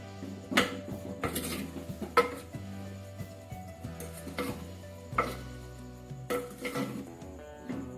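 A lid clanks down onto a cooking pot of haandi chicken with whole spices, several sharp metallic knocks and clinks spread over a few seconds, close by, with music playing softly underneath.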